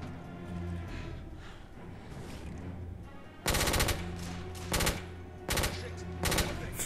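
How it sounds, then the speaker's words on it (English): Machine pistol gunfire in the video game The Order: 1886 comes as several short, loud rapid-fire bursts over steady game ambience. "Let's try a machine pistol."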